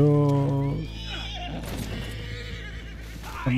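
A horse in the Red Dead Redemption 2 video game gives a loud, close whinny lasting under a second, then hooves clip-clop along with game sounds, and a second neigh rises near the end.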